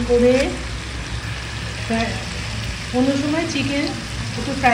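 Chicken pieces frying in a spicy masala for chicken kosha give a continuous sizzle with occasional stirring, heard up close beneath intermittent talking.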